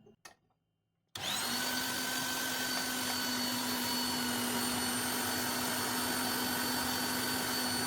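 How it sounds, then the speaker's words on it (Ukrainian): An electric meat grinder grinds gooseberries for jam. After about a second of near silence, the motor switches on and runs as a loud, steady whine with a high tonal hum for the rest of the clip. "І зараз ми його перепускаємо через м'ясорубку."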